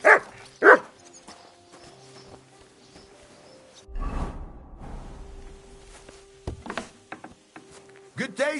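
A dog in the video game Kingdom Come: Deliverance 2 gives two sharp, loud barks, followed by quieter yips and whimpers, with game music and a voice speaking between them.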